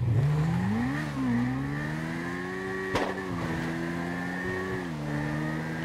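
A motorbike engine in GTA roleplay revs hard during a wheelie, a steady buzzing drone that rises and dips in pitch with throttle changes, close and loud, with one sharp click partway through and no talk.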